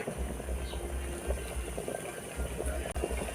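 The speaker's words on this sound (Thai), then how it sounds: "น้ำเดือดแบบนี้ก็ใส่ยอดมะพร้าวลงไปเลยค่ะ" Water bubbles at a steady rolling boil in a pot for blanching coconut palm shoots, a dense constant burble and hiss that carries on without a break.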